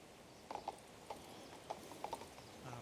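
Horse hooves clip-clop in the King's Bounty 2 video game while riding, a handful of faint, irregular hoofbeats over a quiet background hum, with no voices.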